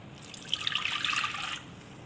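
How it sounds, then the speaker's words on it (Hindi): Water poured from a cup into a cooking pot already holding a piece of chicken, a soft continuous trickle and splash lasting about a second, close and moderately quiet, with no talking. "और 1 कप पानी डाल देंगे।"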